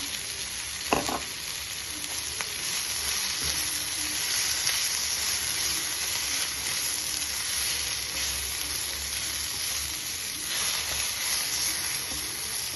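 Grated coconut sautés with a chickpea curry masala in a pan, giving a long, even sizzle and hiss close by, with a few brief clinks and stirs of the spoon.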